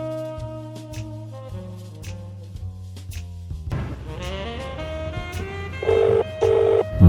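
A series of short telephone keypad tones beeps one after another, followed by a louder repeating ringback tone under a low background hum.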